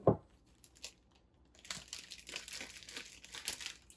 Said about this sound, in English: a Ziploc baggie here